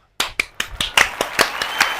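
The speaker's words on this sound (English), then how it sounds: "Let's clap for our guest." Clapping at the close of a food-tasting game show segment for a guest: about ten sharp, fairly evenly spaced claps from a single nearby person, loud and clear with no talk over them.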